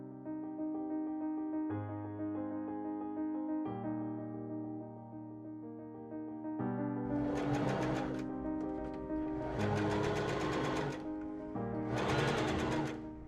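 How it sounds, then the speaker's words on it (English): A sewing machine stitches a seam joining lining to velvet on a cottagecore dress, heard as short bursts of fast mechanical whirring over a steady tonal hum, three distinct runs close by with pauses between. "I pin and machine sew the front seam, attaching the lining to the velvet."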